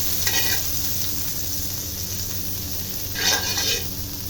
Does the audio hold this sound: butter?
yes